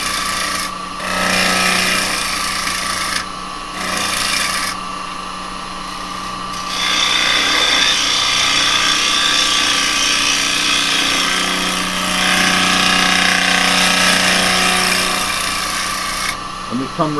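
A carbide tool cuts wood on a lathe at a craft demonstration, giving a steady rasping, scraping hiss that runs in long stretches with brief gaps, with someone talking over it.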